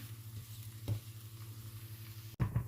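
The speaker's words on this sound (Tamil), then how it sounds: "ஸோ தோசையை நாம் இப்போ திருப்பி போட்டுடலாம்" Ada dosa sizzling after being flipped on a hot tava, a steady close frying hiss with faint scraping touches and a brief sharper sizzle burst near the end.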